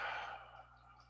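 A slow, soft exhalation after a deep breath during a guided mindfulness relaxation, breathy and fading over about a second, quiet and close with no talking.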